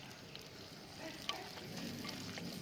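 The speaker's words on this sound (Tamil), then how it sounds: "சின்ன வெங்காயம் சேர்த்து வதக்குறேன்" Small shallots sautéing in oil in a pan for goat leg paya curry, with mint already added, giving a steady low sizzle. A single soft knock from a spatula is heard, and no one talks.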